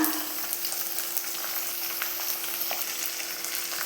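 Shallots frying in oil with ginger and green chillies for chicken perattu, a steady, fairly loud hiss of sizzling with faint crackles and occasional soft stirring.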